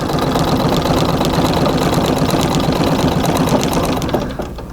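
A treadle sewing machine stitches a full-sized quilt in a loud, steady, rapid mechanical clatter that runs close and unbroken before easing off at the very end.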